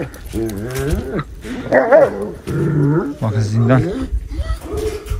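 A dog barks at other dogs in a crowded yard, a few barks and growls mixed in and out of close conversation, with someone talking over it.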